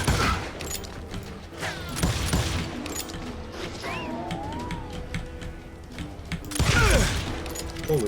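Gunfire in the Western shooter Call of Juarez: Gunslinger, with scattered sharp shots and bursts over game ambience, whooshing effects and a heavier burst of shots near the end.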